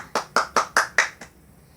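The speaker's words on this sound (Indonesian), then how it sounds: "Kasih tepuk tangan buat kita semua" Six sharp hand claps in a steady rhythm, close and fairly loud, the last one softer, from a teacher in a simple fractions lesson.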